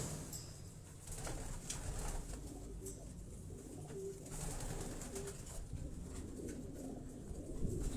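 A racing pigeon in a loft coos softly and repeatedly, low throaty calls set against a steady background hiss, with faint chirps from other birds nearby.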